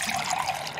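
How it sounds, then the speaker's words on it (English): Beth Harmon loudly slurps water in a formal chess setting in The Queen's Gambit, a brief, wet, close-up sipping burst lasting under a second. "Beth's slurp of water"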